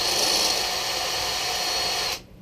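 A PMA Micro Adjust case trimmer cuts a cartridge case with a steady, close whirring grind that holds for about two seconds and then stops abruptly, with no talking.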